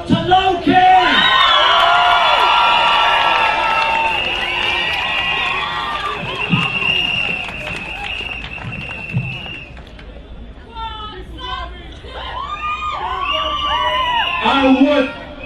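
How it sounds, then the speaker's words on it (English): A crowd at a Stop the War Coalition rally cheers and whoops loudly, with shouting voices and a loud speaker's voice over a PA cutting in near the end. "I want you to give a big, big cheer to Loki!"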